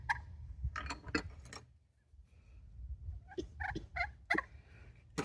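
Slate turkey call played with a different striker, giving bursts of scratchy yelps and clucks, a few early calls, a brief pause, then another run of yelps, close and unaccompanied by speech.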